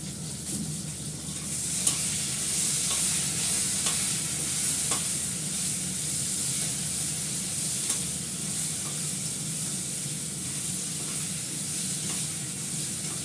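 Cumin seeds tempering in hot oil in a pan while being stirred, a steady bright sizzle running throughout with occasional soft scrapes of the spoon, close and continuous, no talking.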